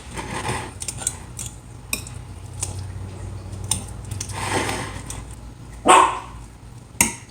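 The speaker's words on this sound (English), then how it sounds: "I'm not sure what Google is barking at" A dog barks in a home kitchen while a 7 layer dip is being made, giving several short sharp barks, one louder burst near the end, amid clinking cutlery and dish sounds.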